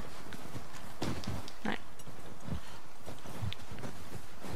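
Horse hooves clip-clop in The Last of Us Part II, a handful of moderately loud, uneven steps close by, with a single brief spoken word mixed in.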